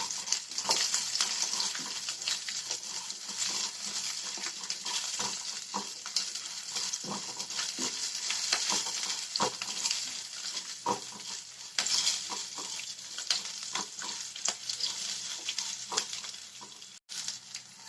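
Urad dal, onion, garlic, ginger and tamarind fry in hot oil in a pan with a constant close-up sizzle, broken by scattered crackles and the occasional scrape of a stirring spoon.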